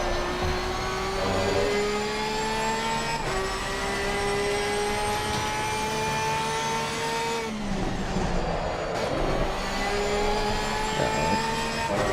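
A Porsche 992 GT3 R race car engine in Assetto Corsa Competizione, on a tuning run for Zolder, revs loud and continuous, rising through gears with brief dips at the shifts, heard alone.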